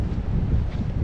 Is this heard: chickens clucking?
no